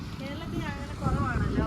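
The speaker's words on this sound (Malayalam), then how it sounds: "നല്ല കാറ്റടിക്കുന്നല്ലേ" Wind blowing strongly across an open outdoor spot with distant hills in Kollengode, Palakkad, a steady broadband rush that swells louder toward the end, with speech faintly underneath.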